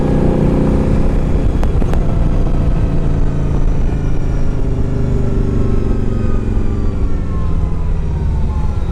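Yamaha V Star 1100 Classic motorcycle, a 2007 model fitted with Cobra aftermarket pipes, idling with a loud, steady low rumble that continues without a break throughout.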